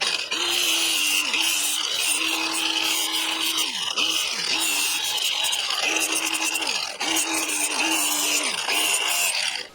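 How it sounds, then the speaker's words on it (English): A flap disc on an angle grinder sands paint off metal, giving a loud, continuous abrasive rasp with a humming motor tone that dips and recovers in repeated passes, close and alone. "take off the paint with the flap disc"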